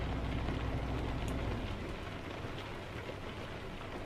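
Steady, heavy rain pours down in a dense, even hiss that fills the whole stretch, loud and unbroken with no voices.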